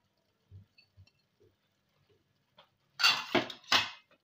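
Boiled shredded chicken with chili flakes is mixed in a pan, starting with a few soft, sparse taps and ending in two louder bursts of scraping and clattering close by, with no talking.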